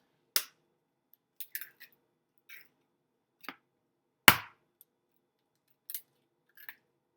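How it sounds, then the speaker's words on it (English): Four eggs are cracked one after another into a bowl, each a sharp, close tap or crack followed by small shell clicks, spaced by quiet pauses. "You just take your eggs and you go ahead and you crack them into the bowl."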